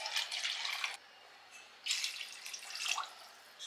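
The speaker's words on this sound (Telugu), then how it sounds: "700 ml వాటర్ యాడ్ చేసుకుందాం." Water splashes into a cooking pot of partly cooked chicken for dum biryani in two separate bursts, with a quiet pause between them. The pouring is close and fairly faint, and no one speaks.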